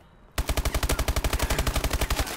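Rapid automatic gunfire in Call of Duty bursts in suddenly and keeps up as a loud, even stream of about twenty sharp shots in two seconds.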